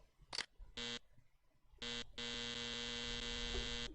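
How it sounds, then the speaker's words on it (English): Harsh, buzzy computer error beeps sound as an old web browser is clicked: a short click, then several loud square-toned beeps, the last one held long, with no talk. "You just click anywhere else where it doesn't do any action, it's going to beep."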